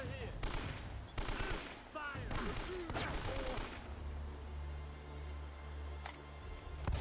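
Bursts of automatic gunfire from Uncharted: Drake's Fortune, several loud rapid volleys in the first few seconds with brief gaps, then a lower rumbling game ambience and one more sharp shot near the end.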